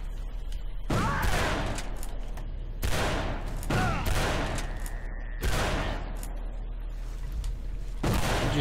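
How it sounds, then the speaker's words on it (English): Gunfire in a History Channel Civil War video game: several loud musket-like volleys crack out at irregular intervals, each with a brief rolling tail, over steady background ambience. "He just shot right over my head."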